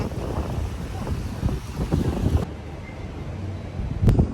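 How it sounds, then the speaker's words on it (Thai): Strong wind buffeting the microphone at a seaside resort in Pattaya, a loud continuous roar with gusts throughout. "ลมพัดแรงมากบกมือหน่อยลมแรง"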